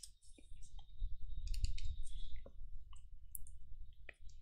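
Sparse, quiet clicks of typing on a computer keyboard, a few separate keystrokes spread over a low background rumble.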